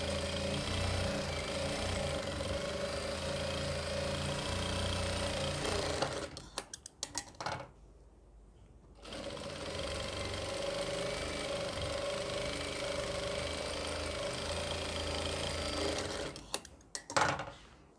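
A sewing machine runs steadily while stitching an Afghani salwar, a close, continuous rapid mechanical whir that stops briefly for about two seconds before resuming at the same even pace, with no talking.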